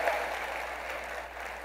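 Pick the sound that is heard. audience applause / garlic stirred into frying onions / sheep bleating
audience applause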